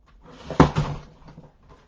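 A large die-cutting and embossing machine for card making is opened, giving two close, sharp clicks in quick succession as each side snaps open, then a few faint handling rattles.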